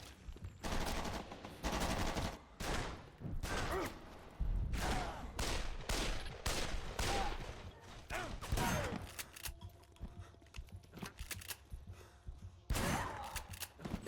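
Video game gunfire from Shellshock 2, with bursts of automatic weapon fire in a rapid, uneven rhythm that start and stop repeatedly, loud and close, with no talking.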